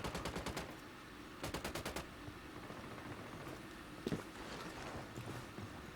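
AK-47 assault rifle fire in the Ghost Recon Wildlands video game: two rapid bursts of automatic shots early on, then a single sharp report and softer scattered gunfire and movement noises.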